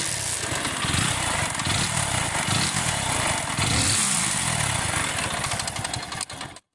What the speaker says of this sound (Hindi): इसमें एक नॉइस आ रही है इंजन से